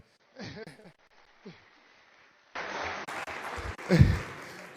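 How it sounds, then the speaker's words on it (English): A voice speaks briefly, then a crowd breaks into steady clapping applause that continues to the end, with a louder voice rising over it. "Please give them a round of applause."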